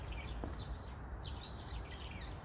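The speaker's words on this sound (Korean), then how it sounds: "지금 새소리 나죠?" Birds chirp in a quiet neighborhood park, a few faint, high calls scattered over steady low outdoor background noise, with no one talking.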